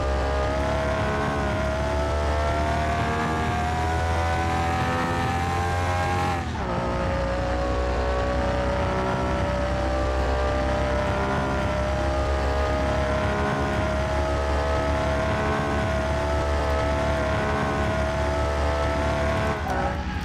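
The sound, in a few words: car driving and drifting in the video game Car Mechanic 2021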